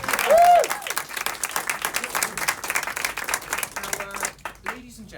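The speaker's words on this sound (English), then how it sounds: "Big round of applause." Audience applause at a theatre show, a brief patter of clapping mixed with a speaking voice over it and a short sung or whistled tone near the start.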